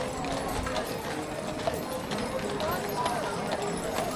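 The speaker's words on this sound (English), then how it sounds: "Beautiful dark horses making their way." Dark draft horses clip-clopping along a street during the 1993 Waverly, Iowa Heritage Days parade: faint, irregular hoof clops amid crowd murmur and background noise, with a commentator talking over them.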